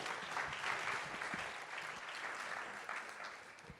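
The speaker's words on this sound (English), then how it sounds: "a big applause." Audience applause at an H-FARM talk welcoming the Chair of the Italian Stock Exchange to the stage, a steady, fairly quiet wash of clapping from a room of people that lasts the whole stretch.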